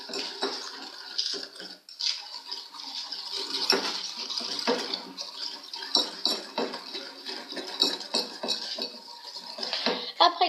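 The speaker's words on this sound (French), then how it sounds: "On prend le fouet, bien évidemment. On mélange, on mélange." A whisk beats yogurt cake batter in a bowl, giving continuous rapid metallic clinking and scraping against the bowl, with short pauses and a few louder knocks.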